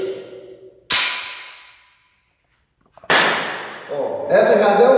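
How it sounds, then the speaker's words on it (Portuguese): A single sharp gunshot from a Taurus 740 Slim pistol loaded with old reloaded ammunition cracks loudly and decays over about a second, followed by a second loud report around three seconds in. Speech is heard before and after. "Vou fazer um disparo."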